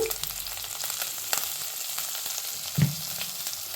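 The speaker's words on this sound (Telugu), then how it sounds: "ఆనియన్స్ అయితే రెడ్గా వేగాయి కాబట్టి నేను కొంచెం పసుపు వేస్తున్నాను." Red-fried onions sizzle steadily in a pan as turmeric goes in, with a couple of brief clinks and a small knock from a spoon or pan.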